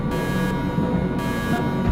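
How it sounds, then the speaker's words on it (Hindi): An alarm ringing in a corridor, pulsing in regular on-off bursts of bright electronic tone over a steady low hum. "यहाँ पे पराजीव का अलार्म बज रहा है"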